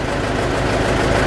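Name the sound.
LTZ tractor engine running evenly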